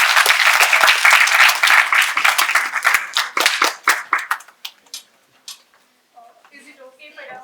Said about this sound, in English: Let us welcome them with a round of applause